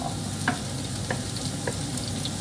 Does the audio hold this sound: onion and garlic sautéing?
yes